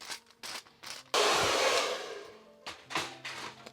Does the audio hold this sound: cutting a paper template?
no